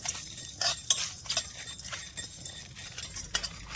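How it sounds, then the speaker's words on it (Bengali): Whole black peppercorns, coriander seeds and a bay leaf dry roasted in a pan, giving close scraping stirs with a few sharp metallic clinks over a faint, low hiss throughout. "এইবার শুকনো খোলা আমি ভেজে নেব"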